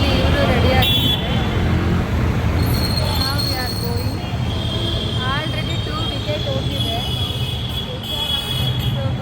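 A metro train runs with a steady loud rumble and high wheel squeal, while a voice talks over the constant noise throughout.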